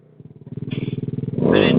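A dirt bike engine revs up while the rider pulls a wheelie, a close pulsing putter rising in pitch and swelling into a loud, steady roar.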